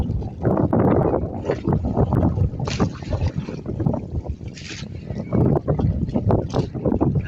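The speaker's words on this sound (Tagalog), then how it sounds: "Medyo lumakas na yung hangin." Strong wind at sea on a squid-fishing trip buffets the microphone in loud, rumbling gusts, with brief bursts of hiss and a few faint voices in the background.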